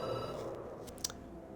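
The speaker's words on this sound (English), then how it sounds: "The phone rings and you jump." Telephone rings in the game Night Call, a brief faint ringing burst over a low steady background hum.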